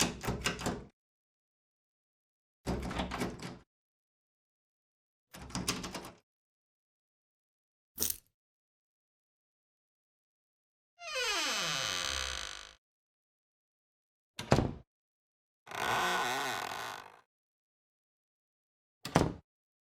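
Game door sound effects made for a key and door system in Unreal Engine 5 with MetaSounds: a series of separate clean clicks, clunks, and longer sliding or creaking swishes, played one after another with silence between them.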